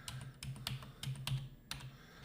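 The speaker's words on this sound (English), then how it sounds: "I'm using the arrow keys to kind of fine tune it." Computer keyboard arrow keys are tapped in short irregular bursts of crisp clicks, close and fairly quiet, while someone fine-tunes a drawing in Inkscape, with no talking.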